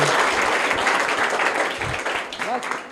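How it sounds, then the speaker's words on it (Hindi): Classroom of students at a private school applauding loudly, a dense continuous burst of clapping for about three seconds that slowly fades, with voices mixed in. "जोरदार ताली।"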